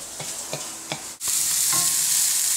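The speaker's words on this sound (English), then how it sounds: "Onions cooking." Onions fry in a pan with a few spoon scrapes, a brief pause, then a loud continuous sizzle that swells and holds close up.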